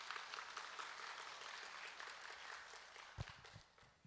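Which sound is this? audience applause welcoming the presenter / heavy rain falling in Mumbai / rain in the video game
audience applause welcoming the presenter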